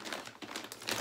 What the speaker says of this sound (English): Sorry, there's gonna be crumpling.